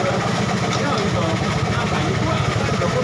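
A Yamaha X-Ride motorcycle engine idling close by, a steady low rhythmic putter that runs throughout the short stretch.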